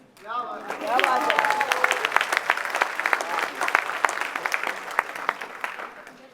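Audience applause at a talk on astrology, a dense burst of many hands clapping that rises quickly and carries on steadily, with a voice speaking over its start.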